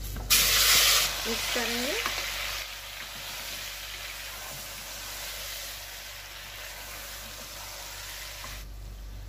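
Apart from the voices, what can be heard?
chicken sizzling as it is added to the frying korma masala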